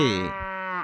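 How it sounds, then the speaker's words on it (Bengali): A single cow, standing with its calf, gives one short, clear moo, a tonal call that drops and then rises slightly before ending, heard alone and close. "গরু বাছুর দাঁড়িয়ে আছে"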